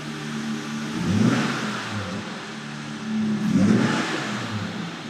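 A mini Jeep Gladiator's small engine revs up twice, rising in pitch and loudness each time before settling back to a steady idle hum.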